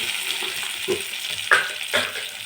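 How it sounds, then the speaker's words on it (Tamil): Onions fry in a pan while being stirred, a soft sizzle broken by a few sharp scraping clinks of the spoon against the pan. "வெங்காயம் போட்டு வதக்கும் போது"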